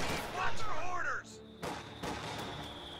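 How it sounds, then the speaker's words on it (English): A single sharp sniper rifle shot cracks in a video game battle, cutting in after a voice and followed by lingering background game noise. "There he goes, sniped at range."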